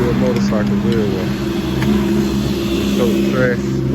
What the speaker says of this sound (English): Motorcycles everywhere.